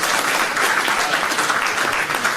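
An audience at a public meeting on free public transport applauds steadily with dense, continuous clapping that fills the room throughout.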